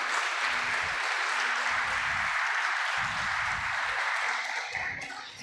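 Steady, dense applause from a large church congregation fills the whole stretch, loud and continuous, tapering slightly at the end.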